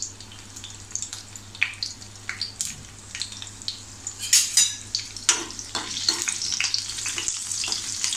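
Curry leaves and a green chili frying in a little oil over a low flame give a steady soft sizzle, broken by sharp pops and crackles that grow busier toward the end, with no talking.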